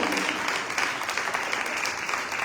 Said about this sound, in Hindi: आइए पाक रूह के लिए जोरदार तालियां बजाएं